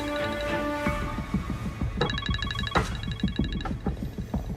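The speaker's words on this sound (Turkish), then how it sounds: "Telefon çalıyor." A telephone rings with repeated electronic chirping tones, loud and close, pulsing in bursts over a rhythmic low throbbing music bed.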